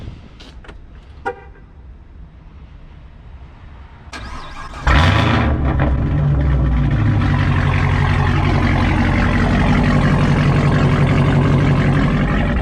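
A modified Chevrolet Camaro ZL1 fires up after a few faint clicks, its engine catching with a loud, sudden roar and settling into a deep, rumbling idle that stays loud and close without a break.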